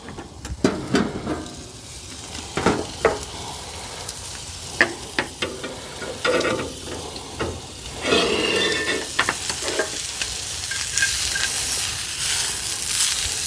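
A small steak sizzling inside a 12-inch wood-fire pellet pizza oven, a steady hiss broken by repeated sharp pops and crackles, close and fairly loud.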